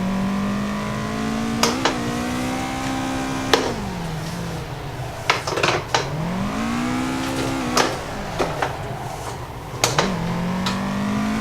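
A Toyota AE86 in the Assetto Corsa racing game revs hard while drifting, its engine note holding high then dipping and climbing again over several throttle swells, with short sharp clicks and bursts cutting in, loud and close with no talking.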